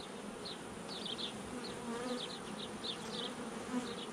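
Honey bees hum steadily around an opened, aggressive hive, a close, continuous drone with scattered higher buzzes as individual bees fly past, and no talk.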